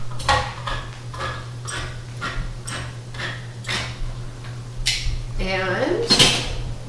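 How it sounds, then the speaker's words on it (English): Metal clicks and clinks as a can of organic black beans is opened in a kitchen, a quick series of sharp taps and scrapes with a steady low hum underneath. "So I've got some organic black beans in the can, the fastest way to do it. So I open up the can."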